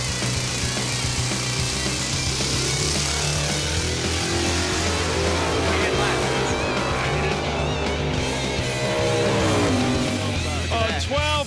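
A drag racing car making a pass, loud roaring engine with rising and falling revs and gear changes over about eleven seconds, close and dominant, with commentary voices partly underneath.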